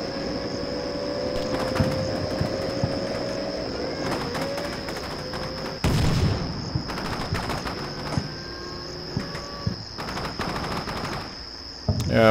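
Gunfire in the video game Combat Mission Shock Force: repeated bursts of machine-gun and rifle fire, sharp cracks spread across a steady tone, with bird chirps in the game ambience and no talk.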